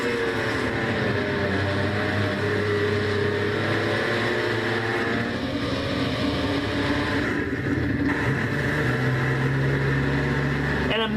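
A Trans Am race car engine at Lime Rock heard from onboard Joshua Collard's car, a steady loud droning roar with shifting pitch throughout, no break in the sound.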